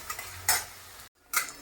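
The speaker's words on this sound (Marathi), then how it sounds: "कांदा छान परतून घ्यायचा" Finely chopped onion stirred in a pan while sautéing for Marathi dal rice, with soft sizzling and several scraping stirs of a utensil against the pan, brief gaps between them.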